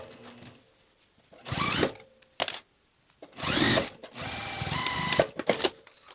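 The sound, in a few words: sewing machine top stitching a fabric casing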